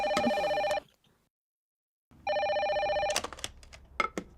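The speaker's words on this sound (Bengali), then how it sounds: "মারে ফোনটা তোল।" A telephone bell rings loud and close in two long bursts separated by a brief silence, followed by a few clicks and knocks.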